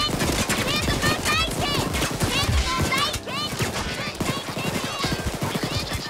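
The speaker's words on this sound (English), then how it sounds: "I hear the bullets." Sustained automatic gunfire during a Payday 2 heist, dense and loud throughout, with shouting voices and chirpy game sound effects layered over the shooting.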